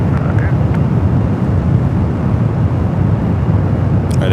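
An Airbus A350-900 airliner on runway 28 left at San Francisco airport, heard as a loud, steady low roar of engine and wind noise throughout, with no talk.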